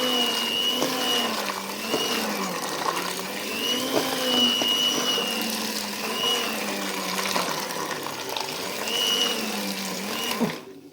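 A machine churns cream into butter, its motor whirring continuously while liquid sloshes in a slow, regular rising-and-falling rhythm, close and fairly loud, with buttermilk separating as the mass clumps.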